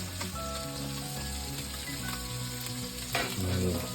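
Garlic fries in oil in a pan on a gas stove, making a steady crackling sizzle with a brief louder burst near the end. Soft music plays underneath.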